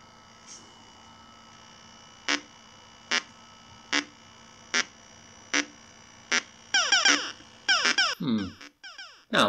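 Evenly spaced electronic thumps from an Atari Asteroids arcade board with a faulty DAC repeat about once per second, then a faster burst of harsh, buzzy, quack-like unsmoothed square-wave blips piles up near the end.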